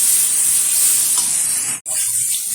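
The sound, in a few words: spice paste and tomato frying in a pan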